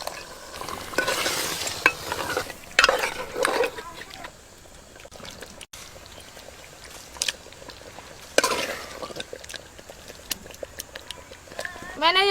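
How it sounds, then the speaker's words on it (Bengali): Mutton with spices stir-fried in a pan, spoon scraping and stirring against the metal with soft sizzling, close and moderately loud, while people talk over much of it. "সব মশলা দিয়ে মাংস আমি খুব ভালো করে কষে নিয়েছি।"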